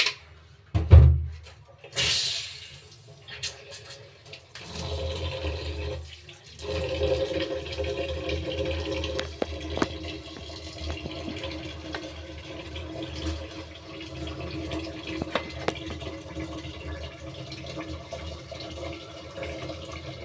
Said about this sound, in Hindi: 2 बार मैं पहले धो चुकी थी और 2 बार मैं अब धोई